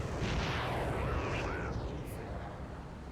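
Missiles launching two by two from deck launchers on a warship in the naval combat game Sea Power, a loud rushing roar that swells early and slowly fades with a rumbling tail.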